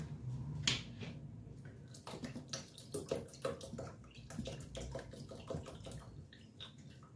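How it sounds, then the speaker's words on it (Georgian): Leftover water poured from a bottle in a home kitchen, heard as a steady close splashing and trickling with scattered small drips and clinks, fairly faint throughout. "უნდა დავასხა დარჩენილი წყალი"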